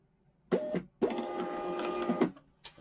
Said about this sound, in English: I'm going to print.